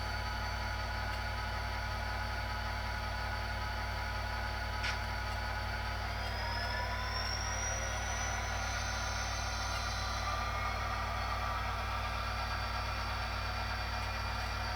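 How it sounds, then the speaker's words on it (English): A model diesel locomotive with a Tsunami sound decoder: a steady, droning engine sound with the whine of dynamic brakes, continuous and even throughout with no talking. "you can hear the dynamic brakes pretty well"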